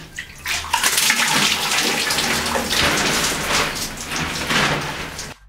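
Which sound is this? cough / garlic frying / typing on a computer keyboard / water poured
water poured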